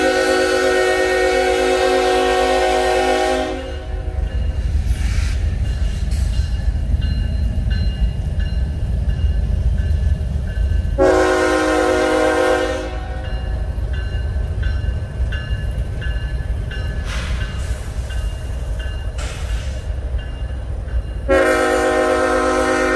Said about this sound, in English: I know you all heard that horn behind me